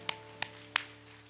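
A few people clap at a Korean Sunday church service, giving three separate sharp claps spaced irregularly over a faint, steady background hum.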